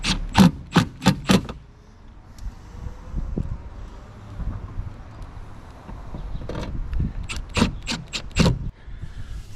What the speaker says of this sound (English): I'm going to get some of this grit cleaned out of here